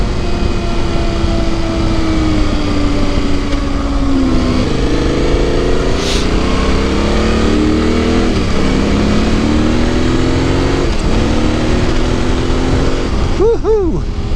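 Yamaha Tenere 700 motorcycle riding a mountain pass road on Tusk tires, a loud continuous engine drone with wind buffeting, rising and falling in pitch through gear changes, under occasional talk.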